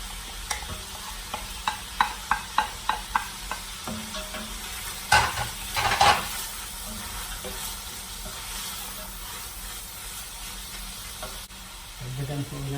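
Hotdog and carrots cook in a pan for Filipino-style spaghetti sauce: a steady sizzle runs throughout while a spoon knocks and stirs in quick rhythmic taps early on, then a few louder scrapes, all close up.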